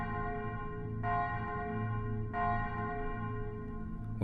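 A church bell in an ancient stone chapel tolls twice, each strike ringing out clearly and decaying slowly over a steady low drone in a spooky told story.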